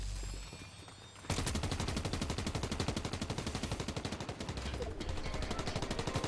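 In a shooter video game, automatic gunfire bursts out after a quieter opening, firing a rapid, continuous stream of shots that carries on to the end with no speech.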